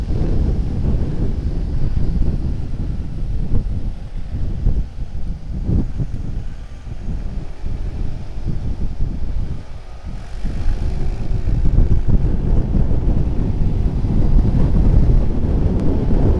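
Riding a small motorcycle behind a touring group of 250cc-plus bikes, with steady, loud wind roar buffeting the microphone and a low engine drone underneath, continuous throughout.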